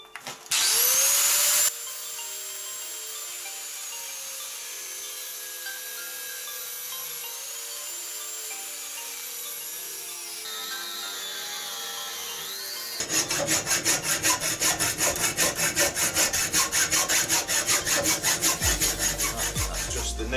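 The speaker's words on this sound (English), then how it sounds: "I'm going to angle grind that out." Angle grinder working on the end of a shed-build tube notcher: a steady high whine that changes pitch partway through, then gives way to a harsher, louder buzzing grind over the last stretch.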